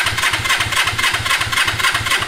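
A GS450 lawn mower engine turns over and sputters with the choke on, giving a loud, close, rapidly pulsing mechanical chug that holds steady for a couple of seconds with no one talking.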